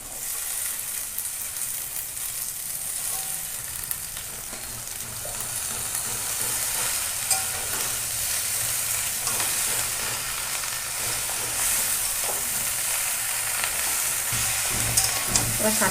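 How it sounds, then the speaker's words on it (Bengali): Chopped Malabar spinach and green chillies frying in a pan for a fish-head curry, a steady close hiss and sizzle with occasional stirring clatter, continuous and fairly loud. "এবার কেটে রাখা শাক দিয়ে দেবো।"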